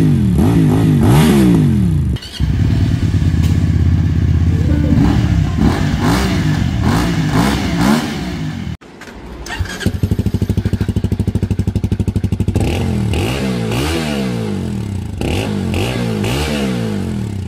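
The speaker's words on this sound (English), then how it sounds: "Alright, that V-twin sounds good." A QJMOTOR SRV300S cruiser's V-twin engine revs up and down repeatedly at close range, rough throbbing pitch sweeps rising and falling with a brief drop before more revving, no talk over it.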